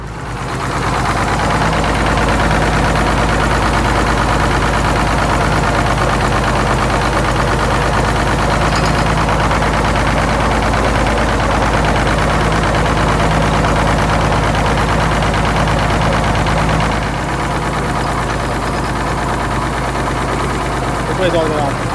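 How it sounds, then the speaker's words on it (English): A GM 4104 bus engine with air shutdown idles loud and close in a steady, unbroken rumble that holds for the whole stretch. "the engine's running, I can't shut it off without building air pressure"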